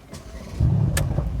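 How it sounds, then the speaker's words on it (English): A Mercedes-AMG C63S V8 convertible with sport exhaust rumbles low, then swells louder as it revs up, with a deep throaty exhaust tone close by. "Ooh, got the sport exhaust on as well."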